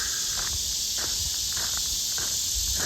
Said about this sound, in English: A lot of decibels louder with all these cicadas